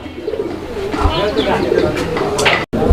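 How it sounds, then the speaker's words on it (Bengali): A pigeon coos in soft, low repeated phrases, close by at a pigeon farm, with people talking over it and a brief dropout near the end. "এই যে দেখেন এই কবুতরটার ডাকটা"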